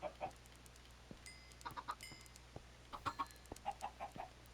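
Chickens cluck in a Minecraft game, a string of short, fairly faint clucks and squawks in irregular bursts over a low steady background hum.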